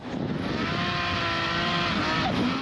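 A drift car at a Drift Masters event in Sweden accelerates hard, its engine roaring loudly and steadily with a faint tire squeal, heard up close for a few seconds without talk.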